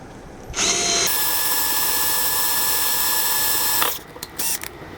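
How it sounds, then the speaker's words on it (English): A power drill with a 2mm bit whirs steadily at high pitch for about three seconds, then spins down, followed by a few brief bursts. "I'm going to start off with a 2mm drill bit."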